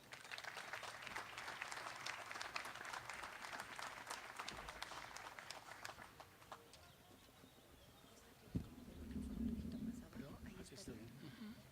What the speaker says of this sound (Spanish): Les pido le ofrezcamos un aplauso